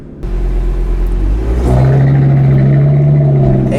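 A tuned Audi RS3 engine revs up loudly from a deep idle rumble into a rising, raspy growl that holds at a strong steady drone, very close and dominant.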